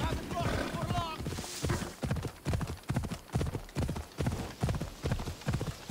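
Galloping horse hooves from Assassin's Creed Odyssey, a steady rapid clip-clop rhythm of repeated loud beats with a brief whinny near the start and game ambience underneath.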